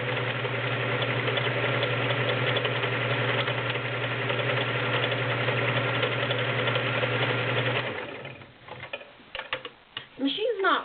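A vintage all-metal Kenmore 1660 convertible free-arm sewing machine runs a multi-point zigzag stitch with a loud, steady mechanical whir that stops near the end, followed by a few handling clicks and thumps.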